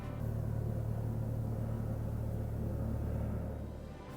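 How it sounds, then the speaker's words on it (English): A low, steady rumble of a helicopter passing outside at a distance holds throughout and fades slightly at the end. "there's a helicopter outside right now"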